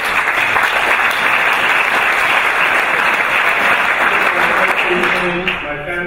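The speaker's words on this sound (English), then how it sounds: "To give him a round of applause, please." Loud, dense applause from an audience at an executive MBA graduation ceremony in Geneva, many hands clapping steadily for several seconds before tapering as a voice begins speaking at the end.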